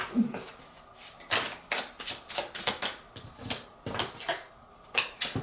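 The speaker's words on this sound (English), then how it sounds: "now I'm shuffling the Light Seers Tarot" Repeated rapid riffles of a Light Seers Tarot deck being shuffled by hand, a dozen or so crisp bursts in uneven rhythm, close by.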